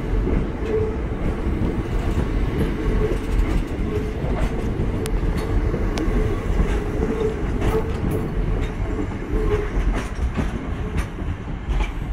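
A Southern Railway passenger train rolls into Redhill station steadily, wheels clattering rhythmically over rail joints with a low rumbling drone throughout, close and loud, no voices.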